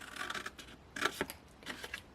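A pair of scissors cuts straight through paper for a gift box, giving a few short, quiet snipping bursts separated by brief pauses, heard up close in a quiet room.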